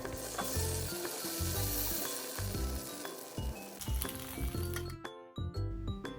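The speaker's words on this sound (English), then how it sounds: "Over a medium heat, flip the rolls every 2 to 3 minutes to even out the cooking and prevent it from burning." Banana spring rolls (turon) frying in hot oil over medium heat, a steady crackling sizzle with close clinks and knocks of the rolls being turned in the pan, no voices.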